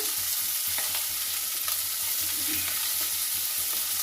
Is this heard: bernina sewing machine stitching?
no